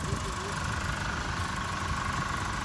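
A used car's engine idles steadily and continuously at close range, a constant low rumble with a faint mid-range hum and no change in pace.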